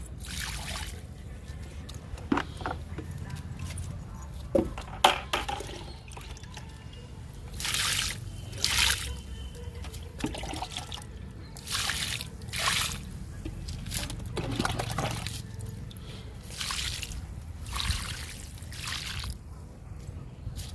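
Homemade liquid fertilizer trickles and splashes onto potted chrysanthemum plants in uneven pours and drips, close and fairly soft, with faint background noise between the splashes.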